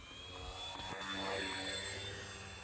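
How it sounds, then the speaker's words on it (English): A Dynam Grand Cruiser RC model plane, a Cessna 310 twin on 4S power, flies past outdoors with a steady whining motor drone that swells slightly and then eases, moderately distant, with no talking. "In terms of noises that you're hearing from the plane, maybe not so great."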